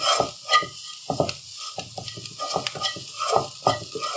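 Potato masala is being sautéed in a pan, with repeated close scraping spoon strokes in an uneven rhythm over a continuous frying sizzle. No voices are present.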